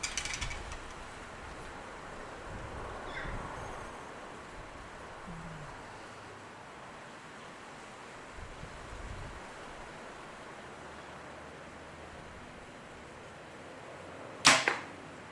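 A PSE Dominator Duo M2 compound bow with a blade rest, drawn outdoors in wind and shot near the end, giving one sharp, close release snap over steady wind noise.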